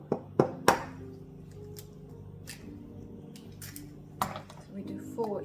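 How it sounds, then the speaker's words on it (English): Eggs are cracked one by one into a small bowl for buttermilk rusks, a few sharp close taps and clicks against the bowl followed by softer handling sounds, with a voice talking faintly in between. "Then I'm going to crack in the eggs one by one in a little bowl."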